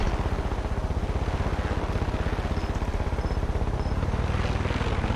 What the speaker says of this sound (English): Ooh, I hear a helicopter.